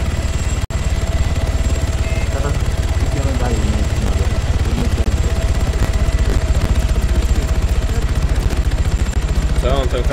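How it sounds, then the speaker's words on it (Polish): A helicopter flies close overhead in the ARMA III video game, its loud, steady rotor thudding continuously throughout while someone talks over it. "Helikopter tu się zbliża."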